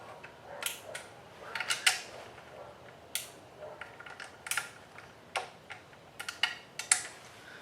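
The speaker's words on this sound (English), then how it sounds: "now I'm going to torque all the bolts down in a star pattern, or well, a staggered pattern to 30 foot-pounds" Repeated clicks from a torque wrench on the bolts of a Ford Focus ST differential during an LSD install, tightened in a staggered pattern to 30 foot-pounds; sharp, close ticks and ratchets arrive in irregular clusters over quiet background.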